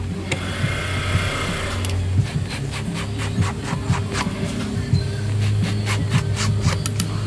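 A sewing machine stitches strips of mink fur for a fur coat, making a close, continuous mechanical whir with rapid ticking needle strokes. The running pace shifts slightly partway through.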